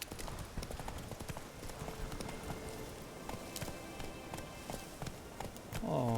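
Hooves of Roach, the horse in The Witcher 3 video game, clip-clop steadily throughout at a brisk, even pace, moderately close, with a short burst of louder tonal sound near the end.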